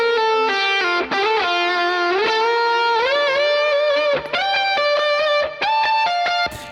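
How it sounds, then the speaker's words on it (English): An electric guitar played through a second, higher-gain overdrive pedal plugin rings out alone in a distorted melodic lead with sustained bent notes and short picked phrases, loud and close. "So I'm now using the second overdrive pedal in this plugin, which is a bit more gain."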